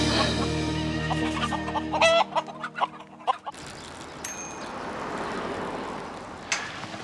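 Hens cluck close by in a series of short, uneven calls, after which a broad noisy outdoor background takes over with one more faint cluck near the end.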